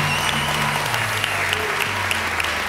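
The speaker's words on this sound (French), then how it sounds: "Puis oui, méritez des applaudissements." A studio audience at a Quebec reality show finale claps in dense, steady applause, loud and continuous throughout.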